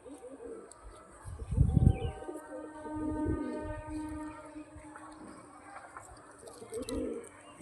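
A male pigeon coos in a few low, throaty bursts, close by and moderately loud, with faint chirps and a bit of background noise around it.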